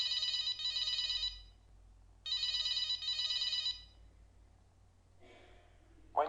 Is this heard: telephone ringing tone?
yes